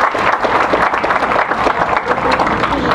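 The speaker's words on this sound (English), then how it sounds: "so let's give her a round of applause." A graduation audience at Santa Paula High School claps steadily in a large crowd, dense and continuous applause that holds evenly throughout without any talk over it.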